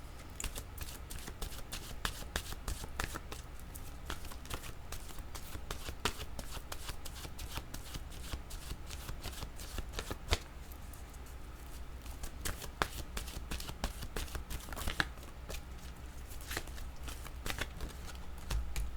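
Oracle cards are shuffled by hand in a quiet room, producing a soft, continuous run of papery riffles and flicks with small sharp snaps scattered throughout.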